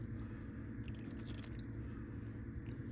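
Thickening slurry poured around a beef pot roast in the pan, giving a steady, close liquid trickle with soft drips and squishy wet sounds, continuous for the whole stretch with no talking.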